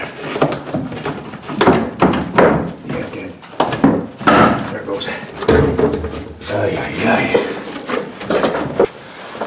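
Hammer pounding on a 2002 GMC Sierra to break a tack weld during fuel pump replacement: a run of sharp metallic knocks at an uneven rhythm, close and fairly loud, with the worker's voice heard between blows.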